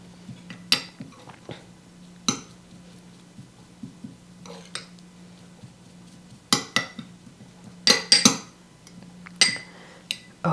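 Chili seasoning mixture with garlic stirred in a bowl, giving scattered clinks and scrapes of a utensil against the dish, close and fairly quiet, in irregular bursts with pauses between.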